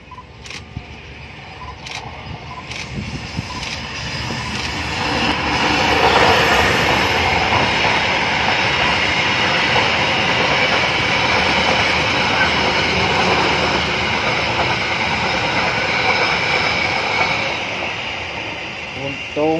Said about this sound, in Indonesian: akan hunting kereta api Sri Tanjung luar dinas ekonomi Kemenhub